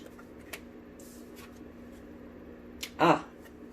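Tarot cards being shuffled, a brief crisp riffling burst near the end after a few faint taps and rustles over quiet room tone.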